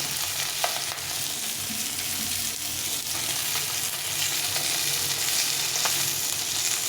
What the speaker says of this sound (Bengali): মাছগুলো ভাজা হয়ে গেছে, এখন দুপাশে ভাজা হয়ে গেছে, উল্টে পাল্টে ভেজে নিয়েছি।